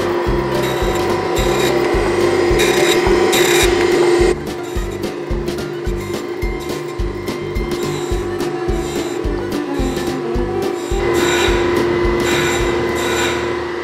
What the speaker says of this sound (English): now we're just surface grinding them a second time to make sure everything's nice and flat